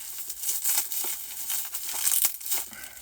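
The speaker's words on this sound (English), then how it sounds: "It's in bubble wrap right now." Bubble wrap packaging is handled up close, giving irregular bursts of crinkling and crumpling plastic with a few sharper crackles, no voices.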